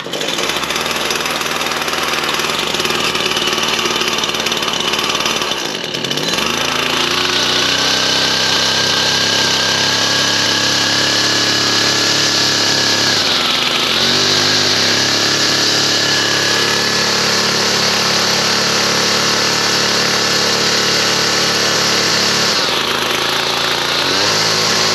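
A Husqvarna 122LK string trimmer, which has a fault that lets it run only with the choke on, runs loud and close with a buzzing two-stroke drone. It bogs down and dips sharply twice, then revs back up each time.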